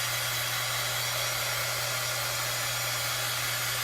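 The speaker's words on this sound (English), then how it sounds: "I'm going to grab my heat tool. And I'm going to just go ahead and get this all dried up." A heat tool blows hot air to dry craft paint on a pizza pan decor project, a steady, loud, unbroken whoosh with a low constant hum, running alone with no talking.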